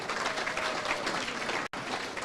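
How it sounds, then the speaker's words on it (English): The audience at the NDC Florida chapter launch gives sustained, fairly faint applause that drops out abruptly for a split second before resuming. "Give that another round of applause now"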